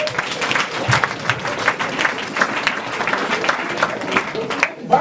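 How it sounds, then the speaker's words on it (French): A church congregation applauds during a sermon, a dense, continuous wash of many hands clapping at close range with some voices mixed into the crowd noise. "On peut acclamer."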